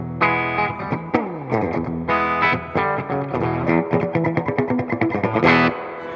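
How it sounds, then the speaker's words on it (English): Electric guitar played through a guitar amp's built-in spring reverb, with strummed chords and picked notes trailing into a splashy, washy tail, loud and up close with no talking. "turn on the real spring on the amp so we can get a comparison"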